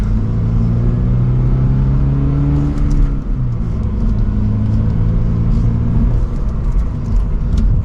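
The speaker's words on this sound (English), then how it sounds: "And from second gear, we'll give it a small acceleration." A 2024 Subaru BRZ with a manual gearbox pulls away gently in second gear, its engine a steady, loud, close rumble that climbs slightly in pitch, with a brief shift in tone midway.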